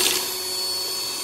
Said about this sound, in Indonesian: kita langsung mixer si telur, vanili, dan garam halus